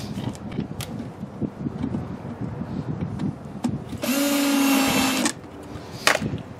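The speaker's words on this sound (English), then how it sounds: "Now we're ready to put our grates back on. We'll put our screws in." Scattered clatter and handling noises give way to a short, loud whir of a power driver sinking a screw into a catch basin grate, followed by a few sharp knocks.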